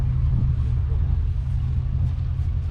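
Vintage tractor engine running at a Farmall anniversary gathering, a steady low rumbling drone close by, with speech over it.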